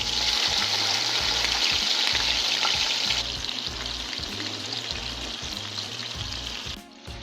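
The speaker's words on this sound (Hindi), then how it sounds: "अब एक पैन में ऑयल गरम करें और आस्था से ये बैंगन इसमें रख लें।" Stuffed cheesy eggplants sizzling in hot oil in a pan, a steady, loud, crackling fry that softens slightly partway through, with no voices.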